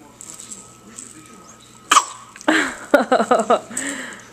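A sharp sneeze bursts out, followed by a quick series of short, forceful bursts like smaller sneezes or coughs, with a voice murmuring faintly around them.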